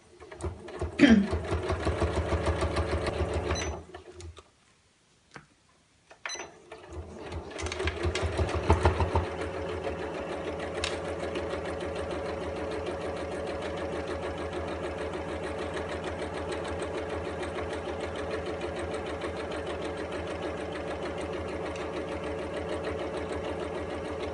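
A sewing machine stitches felt fabric for a storage caddy with a steady, close whirring hum that stops briefly, then resumes and runs continuously.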